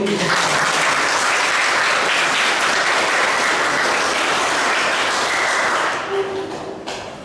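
Loud, sustained applause fills a hall at a vocational high school graduation ceremony in Garut, with dense, steady clapping from a large crowd that thins out and fades near the end.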